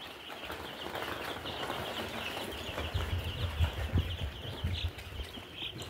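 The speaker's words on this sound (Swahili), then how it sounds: "hii ni siku ya 4 ya brooding hao vifaranga." Young chicks on their fourth day in a brooder cheep and peep continuously, a busy chorus of high calls close by with soft clucking and shuffling underneath.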